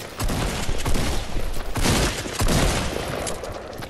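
Dense rapid gunfire in a Fortnite battle royale 1v1, continuous loud bursts of shots for several seconds with short gaps, no talking.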